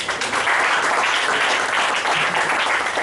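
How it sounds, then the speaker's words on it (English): A crowd at an educational session applauds steadily, a dense, even wash of clapping that holds at full strength for a few seconds without any voices. "Can we have a round of applause?"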